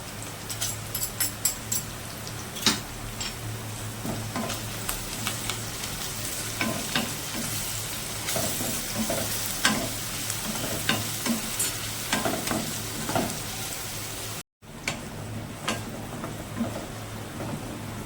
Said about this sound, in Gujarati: હવે આપણે આમાં લસણ નાખી દઈએ પીસેલું